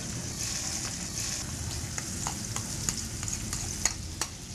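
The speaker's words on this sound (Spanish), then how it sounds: "Te pido por favor que tú me sofrías todas estas cosas y ahí freírlo." Onion and other ingredients frying in hot oil in a pan, a steady close sizzle with scattered sharp clicks of a utensil stirring and scraping, no voices.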